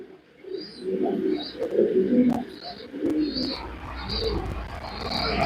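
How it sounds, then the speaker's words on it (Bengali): Low, repeated cooing from a pigeon, several soft throaty phrases in a row, with brief higher chirps and faint background voices. "এই দেখেন সুন্দর একটা নর কবুতর, এর সাথে মাদিও আছে"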